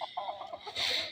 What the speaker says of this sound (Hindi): ये 2 मुर्गे निकले हैं, देखें।